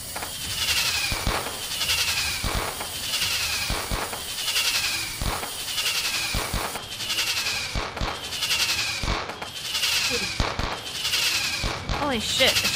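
Fireworks go off in a steady run of sharp bangs and crackles, repeating about once a second, with whistling streaks between bursts, loud and nearby throughout.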